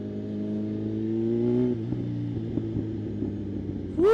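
A Kawasaki ZH2 supercharged motorcycle fitted with a Brock Performance exhaust idles with a steady engine tone, its revs climbing and then dropping, before a sharp throttle blip near the end; no one talks.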